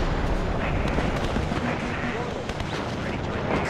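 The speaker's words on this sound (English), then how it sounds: "That artillery actually hitting really nicely." Artillery fire hitting targets during a large 10v10 battle in the strategy game WARNO, a dense continuous rumble of distant blasts and gunfire, loud and sustained.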